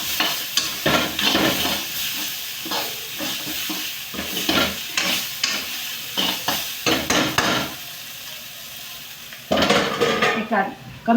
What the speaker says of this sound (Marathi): खालची लागलेली पूर्ण हलवून घेतली एक वेळ मिक्स करून